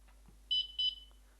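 A gel soft game play timer device beeps twice while being set, two short, shrill, close electronic tones in quick succession in a quiet room.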